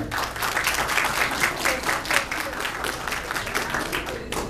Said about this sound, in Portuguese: Vamos lá, palmas para a Carol.